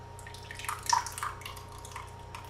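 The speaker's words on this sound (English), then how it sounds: "pick up the real good glorp glorp sounds that are gonna come off of this as soon as I start pouring it" Thanksgiving leftovers are poured out with a brief, faint, wet gloopy squelch in a quiet room.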